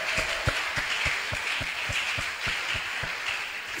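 Congregation at a church service clapping in a steady, even rhythm, sharp regular claps roughly twice per second over a broad wash of crowd noise, sustained throughout with no talk over it.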